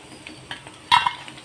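Crispy fried Chicken 65 pieces lifted from the pan into a bowl, a few soft scrapes and then a bright metallic clink and clatter of utensil against dish, close and brief.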